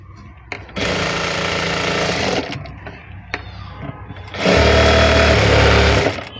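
A sewing machine stitches double-folded waste cloth in two loud running bursts with a brief quieter pause between them, the motor hum steady and close.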